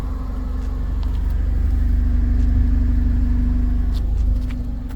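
A car with a quiet exhaust runs at a low, steady idle, its deep even hum and faint rumble continuing unbroken with no voices.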